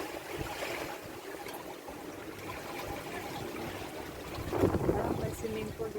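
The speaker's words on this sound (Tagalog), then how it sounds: "mahangin dito sa taas." Wind gusts across a microphone at a high lookout in Singapore, a steady broadband rush that swells louder near the end, with faint voices mixed in.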